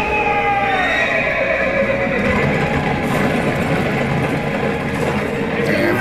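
Horses whinny over a steady rumble of hooves clip-clopping in the Attack on Titan anime, loud and continuous throughout.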